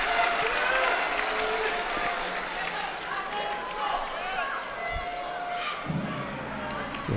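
A judo crowd at the Grand Prix in The Hague applauds and cheers in a steady, dense wash of clapping and voices filling the arena, with some thuds near the end.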